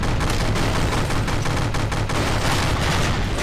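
SMG gunfire in the video game From The Depths, a continuous loud dense rattle of rapid shots filling the whole stretch with no pauses and no talk.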